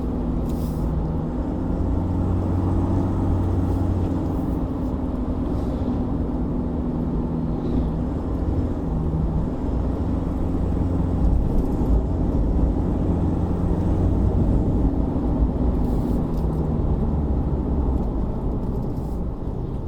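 A 2021 Mitsubishi Triton Athlete pickup is driven through corners on a rural B road, its engine and road noise forming a steady, loud drone with a low hum heard from inside the cab, and no speech.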